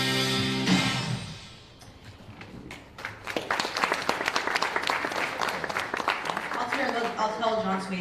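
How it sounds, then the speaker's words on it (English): Audience at an anime convention panel in New York breaking into applause: a sustained burst of many hands clapping builds after a short stretch of show dialogue and continues dense and loud to the end. "I'll tell John Swayze, our director, that you guys clapped for him"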